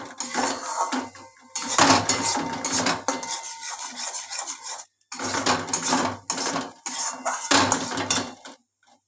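Bottle gourd peel paste is stirred in a metal wok, giving repeated bursts of scraping and rasping spatula strokes against the pan, loud and close, separated by short pauses.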